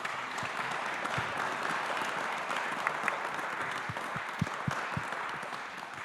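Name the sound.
applause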